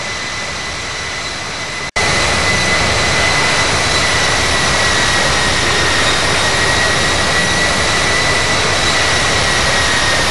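Jet engines of an Airbus A321 taxiing in the Infinite Flight game make a loud, continuous whine and roar with a steady high tone. It cuts out for a moment near the start and then runs on unchanged.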